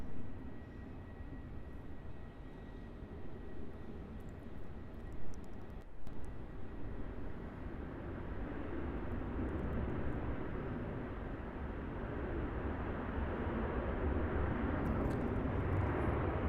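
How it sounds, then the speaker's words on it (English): A Cathay Pacific Boeing 747-8 airliner on final approach at an airport gives a distant, broad jet roar that builds steadily and stays continuous. "turning just onto finals for runway 34 is that Cathay Pacific 747-8, which is a direct service there from Sydney"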